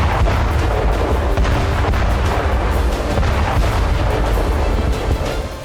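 A loud, continuous roar of blasting and rumbling, like a large explosion with booming bursts and crackling, filling the whole stretch without voices; a Ukrainian drone exploding against a Russian Black Sea Fleet warship.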